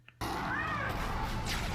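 Cat-monkey creatures in a Star Wars: The Bad Batch episode meow in a cartoonish way over a busy, loud backdrop of music and effects, starting after a brief quiet moment.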